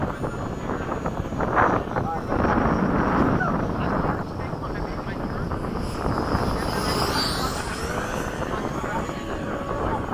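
RC 80mm electric ducted fan jets, a Freewing F-5 and FMS Hawks, fly at a flying field, making a steady rushing whine under heavy wind buffeting, with people talking nearby throughout.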